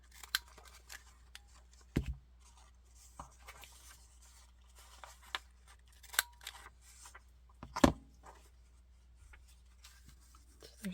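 Scissors cut paper pieces for journal decorating, with sparse soft snips and a few sharper clicks of the blades, quiet and close at a desk with no talking.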